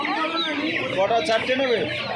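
Many chicks in a cage at Uluberia hen market peep and chirp together in a dense, continuous chorus, close by, with voices talking over them.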